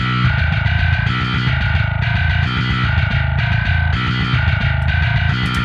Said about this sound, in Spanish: El tercero es mi favorito, ese que dice grit, que tiene ya como una distorsión, pero tampoco tan, tan fuzz, sino más modernosa.